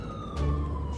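A police-style siren in the Metroville city video game wails with a steady, sliding tone over a low engine rumble. It is close and fairly loud, with no talking.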